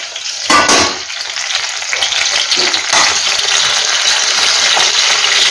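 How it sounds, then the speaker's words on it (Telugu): Brinjal (eggplant) pieces frying crisply in oil in a pan with garlic and chilli, a loud, continuous hiss and sizzle with bursts of crackle and spatter, close up, with no talking. "మెత్తగా ఉండకుండా కొంచెం క్రిస్పీగా వేగుతుంది"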